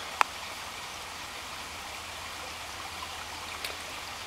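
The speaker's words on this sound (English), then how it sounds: "There's a nice little water source." A small stream at a water source beside a hiking trail trickles steadily in a soft, continuous wash, fairly faint, with a couple of brief clicks and knocks.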